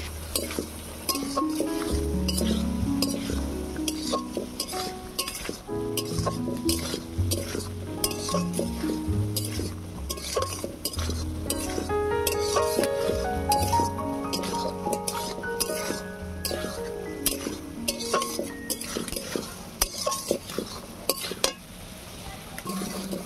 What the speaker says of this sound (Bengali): এবারে আলু আর চিংড়ি মাছটাকে ভালো করে কষিয়ে নেব।